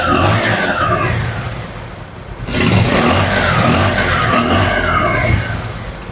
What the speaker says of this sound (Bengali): দেখতেছেন বাইকটির সাউন্ড।